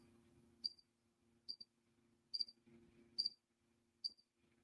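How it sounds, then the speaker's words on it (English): Crickets chirp in short, evenly spaced bursts over a faint low hum, quiet and steady with no voices. "We don't hear shit. We hear crickets."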